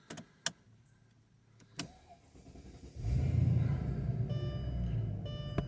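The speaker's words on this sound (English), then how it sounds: "I'm going to go ahead and crank up the car to show you that it works" A few clicks, then a Mercedes-Benz CL500 engine cranks and catches, settling into a steady idle rumble close by.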